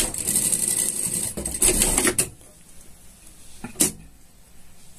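A sewing machine stitches a seam on a unicorn pajama, running in a steady close whir for about two seconds before stopping, followed by a brief mechanical clack.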